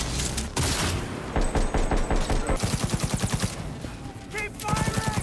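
Automatic gunfire in Cyberpunk 2077 hammers out in a rapid, steady string of loud close shots, followed by a brief pause and a few more bursts.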